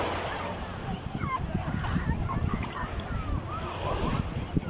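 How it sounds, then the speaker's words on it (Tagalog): Ocean waves wash in with a steady rush, mixed with wind buffeting the microphone, while a person talks over it. "Alon yan, guys."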